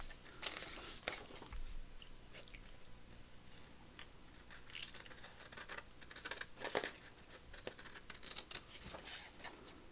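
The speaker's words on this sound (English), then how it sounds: "Just cut it out roughly to start with." Scissors roughly snip around a paper tag for a beginner junk journal, giving a run of crisp irregular cuts and paper rustles, close and moderately quiet, with no talking.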